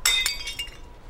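Porcelain lizard figurines smash in Heavy Rain, three or four bright glassy crashes and clinks in quick succession, the first loudest, followed by a tinkling tail of scattering shards.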